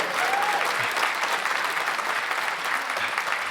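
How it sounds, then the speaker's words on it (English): A podcast's live studio audience claps in a steady, dense round of applause that holds at an even level for a few seconds. "It'd been so long since there was a reason for you to clap that I didn't think that you were going to do it, but you did it"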